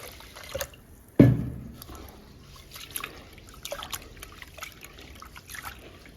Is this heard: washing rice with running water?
yes